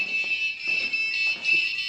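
A motion-detection intrusion alarm built on Xbee and Arduino sounds its buzzer, a loud continuous high-pitched electronic tone that stays steady and close with slight pulsing throughout.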